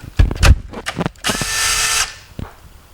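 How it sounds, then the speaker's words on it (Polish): A power drill backs screws out of an old, dirty device, with short bursts of whirring, clicks and handling knocks followed by one longer steady high-pitched spin, close and loud. "Weźmiemy i odkręcimy z niego śrubki."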